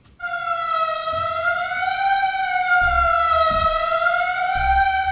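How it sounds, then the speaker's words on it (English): A processed, pitch-bent vocal loop wails like a New York emergency siren, a loud sustained tone sliding slowly up and down, with low thumps underneath. "So that's a New York siren."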